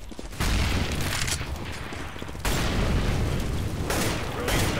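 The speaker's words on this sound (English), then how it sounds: "Grenade out." Grenade blasts in Counter-Strike: Global Offensive on the Italy map, two heavy booming bursts in quick succession with rumbling tails, dense and loud, mixed with other game noise.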